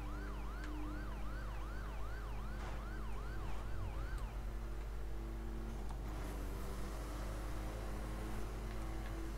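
Police siren in The Crew racing game wails in a rapid rising-and-falling yelp, later shifting to a slower tone, loud over a steady engine drone with some crashing noises.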